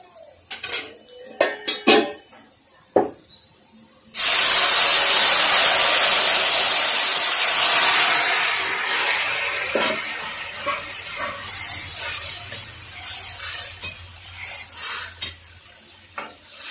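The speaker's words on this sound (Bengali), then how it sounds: "এর মধ্যে দিয়ে দেবো মটনটা।" Mutton tipped into a pan of fried onions and cumin bursts into a loud, sudden sizzle after some clinks of utensils, then settles into a softer crackling fry with scraping stirs.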